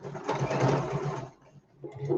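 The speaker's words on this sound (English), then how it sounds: "I'm just sewing round that edge" A sewing machine fitted with a 1/4 inch foot runs a seam in a steady, rapid whirring burst, stops briefly, then starts up again.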